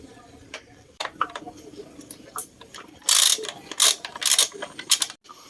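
Socket wrench ratcheting out carburetor screws on a Honda XRM125 motorcycle, with scattered clicks at first, then bursts of rapid, loud, close ratchet turns, and no talking.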